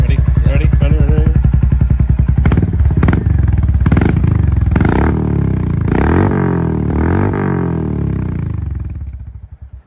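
Royal Enfield Hunter 350 motorcycle engine blipped up from idle, a loud, close single-cylinder thump that swells into a few rising revs before settling and cutting off near the end.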